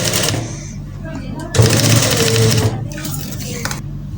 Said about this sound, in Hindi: अब इसी तरह से हम इस साइड पे भी इस तरह से सिलाई लगा लेंगे।